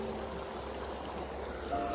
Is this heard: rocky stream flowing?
yes